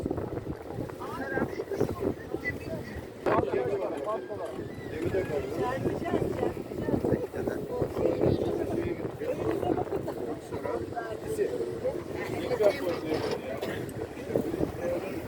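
Sailboat tour on the Nile in Egypt, with wind buffeting the microphone and water and boat noise running steadily throughout, under ongoing chatter from passengers aboard.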